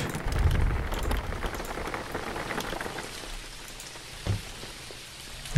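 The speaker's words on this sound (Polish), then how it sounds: "Dobra, deszcz nam go umyje" Steady rain pours down in the video game Jalopy, a dense hiss of drops drumming on surfaces, with one brief louder knock near the end.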